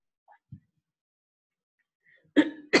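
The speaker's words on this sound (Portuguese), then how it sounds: "é só começar a dar aula, eu começo a tossir" Two loud, close coughs from a teacher during a Portuguese lesson burst out near the end, after a few faint small sounds and a long stretch of silence.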